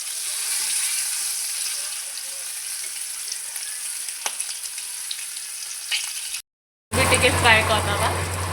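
Eggs and potatoes frying for egg curry make a steady, hissing sizzle for several seconds, then a brief silent break before a louder, busier stretch where a voice seems to come in over the frying.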